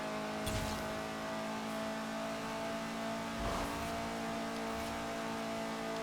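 Race car engine in the video game Forza Horizon 4, held at full throttle without lifting through corners; a loud, steady, harmonic-rich drone runs throughout with slight surges, and no one speaks.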